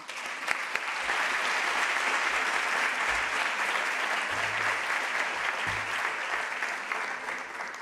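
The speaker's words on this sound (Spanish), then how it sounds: "Un fuerte aplauso para ella." Audience applause fills a conference hall at a health technology assessment network meeting, a dense, steady wash of many hands clapping at once, sustained at an even loudness throughout.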